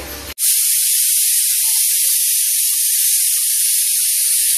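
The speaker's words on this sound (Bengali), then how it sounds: "কুকারে সিটি পড়েছে" A pressure cooker holding mutton bursts into a loud, continuous rushing hiss of escaping steam that starts abruptly and holds steady at close range for several seconds, with no talking.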